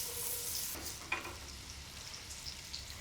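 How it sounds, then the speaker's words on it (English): Vegetables sweat in a pan for coq au vin with a steady, soft sizzle. A few faint clinks of a utensil stirring rise over the constant frying hiss. "Now the veg are sweating."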